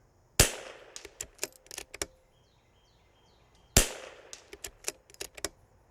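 Two sharp rifle shots fired at a target during a scope test in low light, spaced about three seconds apart, each followed by a rapid string of faint clicks and distant ticks.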